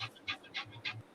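A dog panting heavily in quick, rhythmic bursts of breathy huffs, close by and fairly loud, with no voices over it.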